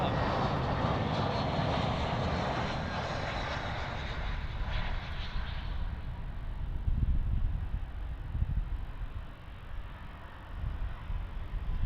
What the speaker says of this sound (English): And looks like we have a Jetstar A320 arrival here on runway 34.